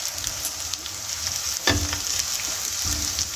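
Cumin and garlic fry in a pan with a soft, steady sizzle and a couple of brief stirring scrapes and clunks, heard close at moderate loudness with no voices.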